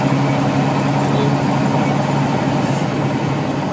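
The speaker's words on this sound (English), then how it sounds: "I hope my engine's not too loud for this video." A car engine idles steadily with a constant low rumble throughout, loud and close, with no break in the drone.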